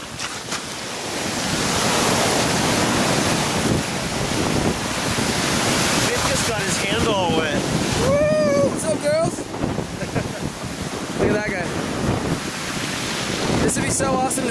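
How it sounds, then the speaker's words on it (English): Ocean surf rolls steadily on a very windy shore, strong wind buffeting the microphone throughout, with brief voices breaking in over the roar partway through. "Oh, how I miss thy ocean."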